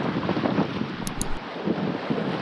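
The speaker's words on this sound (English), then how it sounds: "Looks windy out there." Wind buffets a microphone aboard a sailboat near the Isle of Bute, a steady rough rumble with a brief clatter in the middle and no voices.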